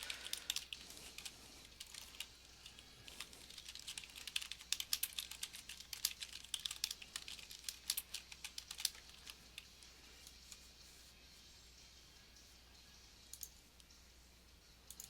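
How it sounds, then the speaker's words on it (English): Quiet, steady typing on a computer keyboard goes on for about fifteen seconds in a bursty rhythm of rapid clicks with brief pauses, heard close up, with no voices. "I guess I'll just go ahead and type it here."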